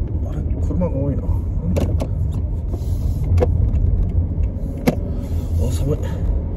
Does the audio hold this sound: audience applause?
no